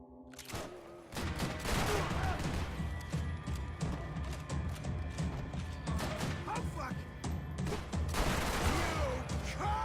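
Rapid submachine gun fire from Max Payne 3 crackles in dense bursts, with crashes and impacts, while a player talks throughout over the gunfight.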